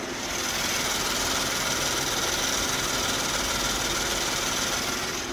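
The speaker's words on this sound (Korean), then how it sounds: "굉장히 정숙하고 규칙적인 엔진 사운드 들려주고 있고요" A Kia K9 large sedan engine idles close by with the hood open, a steady, even hum with a fine regular ticking, unchanging for several seconds with no voices.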